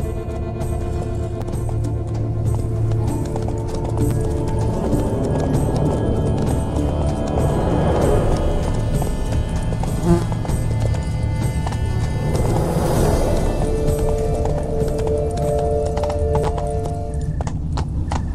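Horses galloping in The Witcher 3: Blood and Wine, with steady hoofbeats pounding close and loud and an occasional whinny, all carried over a rumbling game soundtrack without speech.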